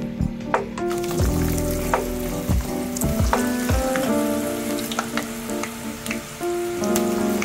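Peanut pakodi frying in hot oil, a steady, close, loud sizzle with bubbling crackles that runs throughout, with no talking.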